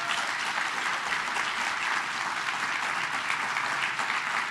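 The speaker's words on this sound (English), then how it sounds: "I ask the audience to give you another round of applause." Audience at an awards ceremony for social workers giving a sustained round of applause, dense and even clapping held at a steady level throughout, filling the room without any speech.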